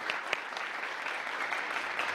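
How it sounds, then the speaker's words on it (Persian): Studio audience at a TV talent show applauding, steady even clapping at moderate distance with a few sharper claps standing out. "آیه فیروزه کریمی عزیز و ادمون بزیر که امروز همراه ما هستن که تشویقشون کنن"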